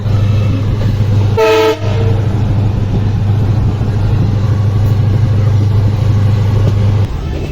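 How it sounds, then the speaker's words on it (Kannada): A passenger special train pulls into Hulkoti railway station at sunset, a steady loud low rumble throughout with a brief horn toot near the start, no voices. "ಟ್ರೈನ್ ಈಗ ಹುಲ್ಕೋಟಿ ರೈಲ್ವೆ ಸ್ಟೇಷನ್ಗೆ ಬಂತ"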